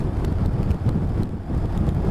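Steady wind roar buffeting the microphone while riding a Honda CRF1000L motorcycle into a headwind, a dense low rumble throughout the short stretch with no talking.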